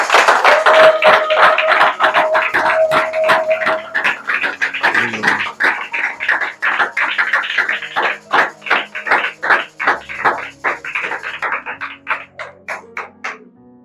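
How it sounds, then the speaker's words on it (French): A church congregation claps and cheers to acclaim the Lord, loud dense applause and shouting at first, settling into rhythmic unison clapping that gradually thins toward the end. "Et c'est comme ça qu'on acclame."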